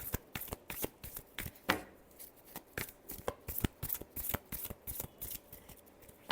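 Tarot cards being shuffled by hand, a rapid run of crisp riffling flicks and slaps close by, steady and fairly quiet with no talking.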